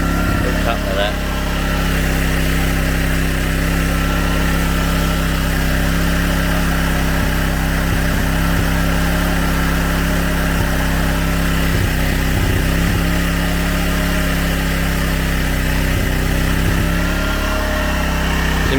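A Honda EX-500 generator engine running at a steady idle, a continuous close mechanical drone that holds level for the whole stretch.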